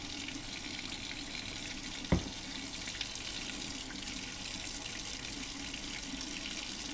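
Tap water runs steadily into a sink while a makeup brush is rinsed, a constant close hiss with one brief knock partway through and no talking.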